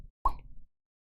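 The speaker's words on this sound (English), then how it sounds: "I wrap a towel around the mouth of the bottle as I wiggle the cork free." A single cork pops free from a bottle in a Doki Doki Literature Club mod, one short hollow plop with a brief resonant tail, fairly close and clear against otherwise near silence.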